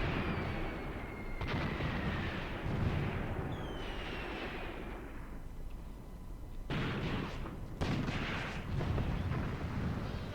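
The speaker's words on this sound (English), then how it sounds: "At least my pre-planned artillery barrage is now hitting the infantry support of it" Artillery barrage in the World War II tactical game Graviteam Tactics, heard as dense, continuous rumbling blasts and bursts with no voices, swelling again in heavy volleys toward the end.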